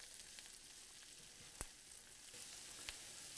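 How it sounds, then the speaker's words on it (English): Red bell pepper and asparagus stir-fry in butter with onions and garlic, giving a soft, steady sizzle with a couple of sharp clicks from stirring. "To get them partially cooked, it'll be about 2 minutes of stir frying."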